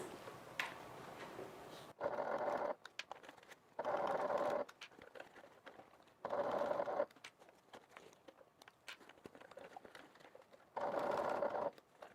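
A sewing machine stitches the upper edge of an evening bag at a quarter-inch seam, running in four or five loud bursts of a second or so each, separated by quieter pauses of fabric handling.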